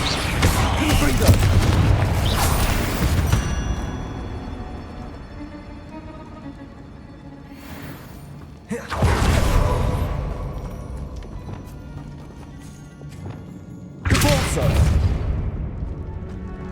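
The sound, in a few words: Confringo fire blast spell from the video game Hogwarts Legacy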